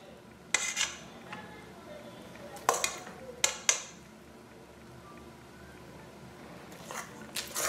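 Eggs and vegetables for mini tortillas are mixed in a bowl, heard as a few sharp clinks and scrapes of a utensil against the dish separated by quiet pauses, fairly faint and close.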